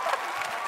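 A big crowd roar sound effect swells briefly, a wash of cheering and clapping that is loud and close throughout.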